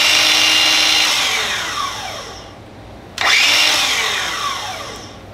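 A DeWalt DCS361 cordless 7-1/4 inch sliding compound miter saw spins up loud and close, whines, then winds down; it starts again, runs, and spins down once more, with no cutting and no talk.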